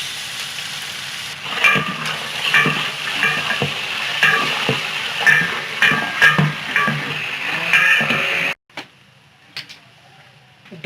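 Oil sizzles loudly as garlic paste and onions fry in a pan, with repeated stirring scrapes and clatter. The frying cuts off abruptly near the end, leaving a few faint knocks.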